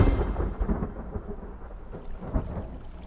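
Thunder rumbles through a stormy scene in an animated series, a low rolling crash with a few deeper surges over a faint rain-like hiss, with no voices.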